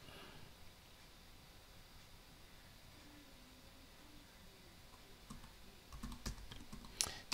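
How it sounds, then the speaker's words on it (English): Faint soft keystrokes on a computer keyboard as a password is entered, a light irregular tapping under low background hiss that grows slightly busier with a few sharper clicks near the end. "type in the new password, type in the new password again"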